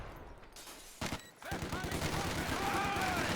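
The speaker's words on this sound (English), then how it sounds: "Got another machine gun coming in from this angle though." Machine gun fire rattles in a Company of Heroes 2 3v3 battle near a station, rapid bursts swelling after a brief lull into continuous chattering fire with scattered gunshots, fairly faint overall, with a voice talking over it.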